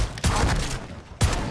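A shotgun fires in the video game MW3 Zombies: two loud, sharp blasts about a second apart, each with a short booming tail, over a low game-ambience bed.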